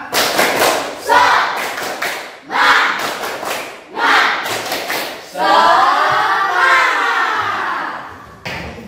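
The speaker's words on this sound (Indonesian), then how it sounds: "Oke, tepuk semangat." Classroom of children doing a rhythmic clapping chant, bursts of clapped beats in a patterned sequence, then a loud shouted group cry, close and energetic with young voices throughout.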